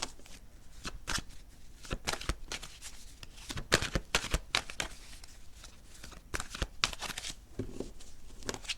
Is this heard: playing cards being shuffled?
yes